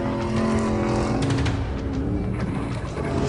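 A truck leaves the road and drives into the bushes, its engine roaring loudly and steadily as the wheels spin through rough off-road ground, with no voices over it.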